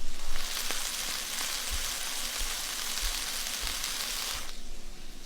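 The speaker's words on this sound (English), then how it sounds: "Almost every single rain sound in film and TV is actually the sound of frying food." Food frying in hot oil, a dense crackling sizzle much like steady rain, heard close and continuous for a few seconds with soft low thumps underneath.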